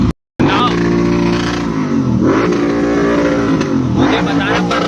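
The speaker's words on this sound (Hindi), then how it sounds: "ये जो फरफरा रही है ना, बुलेट ही है।" A Royal Enfield Bullet motorcycle at a moto fest event in Jharkhand gives a loud, close, sustained engine rumble that swells and dips as it revs, under crowd and voices.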